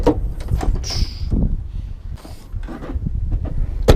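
A police car's rear door springs open at a button push: a series of mechanical clunks and thumps, followed by a sharp latch click near the end, with no talking.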